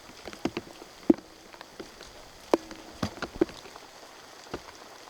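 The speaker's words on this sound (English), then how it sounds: "it comes in the form of Santa Cruz rain" Rain falls steadily on a Santa Cruz disc golf course, a soft continuous patter broken by scattered louder drips and taps, with no voices.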